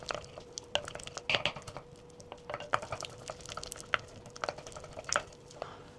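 A wooden spoon working peanut butter cookie dough of butter and sugar in a bowl by hand, with soft squishing strokes and light scraping taps against the bowl in an irregular rhythm, close and fairly quiet.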